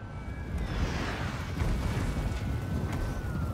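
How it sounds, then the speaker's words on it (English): A heavy mortar barrage in a Total War: Warhammer battle sends up a continuous low rumbling roar of distant explosions, with faint whistling shells overhead and no clear voices. "That's a lot of mortars."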